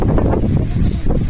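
Strong gusting wind on Mount Merbabu buffets the microphone in loud, rough low rumbles that surge and ease over a second or so, with no voices.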